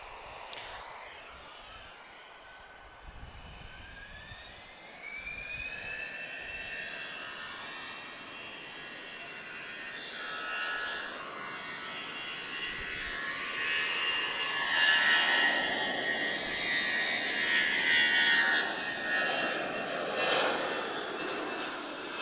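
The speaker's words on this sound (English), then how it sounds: "he's an older A320, but he's got the retrofitted winglets" An older Airbus A320 retrofitted with winglets at Lisbon Airport gives a steady, rising jet engine roar with whining tones, growing louder over about twenty seconds as it moves closer, with no talk over it.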